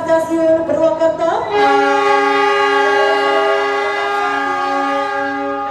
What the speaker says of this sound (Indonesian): sesaat lagi kita akan saksikan bersama diberangkatkannya kereta api Batu Raden Express